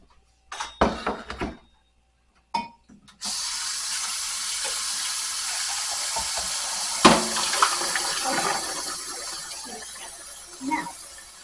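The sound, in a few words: soup liquid poured through a strainer into the sink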